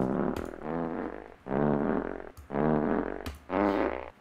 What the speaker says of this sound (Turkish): Bakın bu osuruk oyuncağına tıkladığım zaman osuruk sesi çıkıyor.